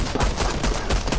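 Rapid gunfire in a Fortnite match, a loud, close stream of overlapping shots like machine-gun bursts that runs without a break for just over a second.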